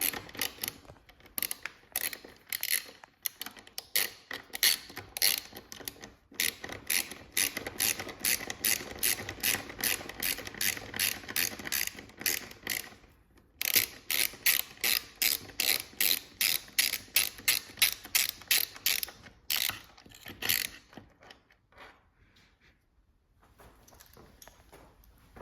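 A hand ratchet loosens the taillight mounting bolts on an Aprilia RS 660 motorcycle, giving fast, regular clicking strokes in long bursts with short pauses between runs, close and crisp, with no talking.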